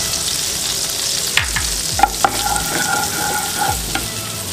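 Cumin and red chili powder sizzle in oil in a frying pan for a vegetable curry with peas and makhana, a steady hiss broken by a few clinks and scrapes of a stirring spoon, close and alone.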